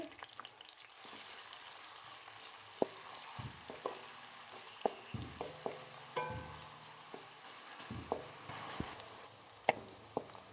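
Onions frying in a pan until golden brown, a steady soft sizzle broken by repeated scraping and clinking stirs of a spoon against the pan, close and alone with no voices.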